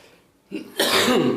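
After a short quiet pause comes a sharp intake, then a single harsh cough that trails off, close up.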